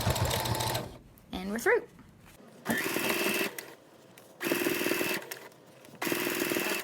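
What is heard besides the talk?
sewing machine stitching thick mask fabric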